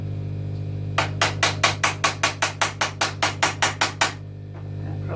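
A small hammer strikes metal roughly fifteen times in a quick, even rhythm, each tap sharp and close, over a steady low electrical hum.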